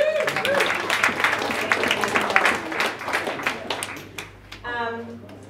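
Wedding guests applauding during reception speeches, a warm burst of clapping that tapers off over several seconds, with voices and a few cheers mixed in before a brief spoken word at the end.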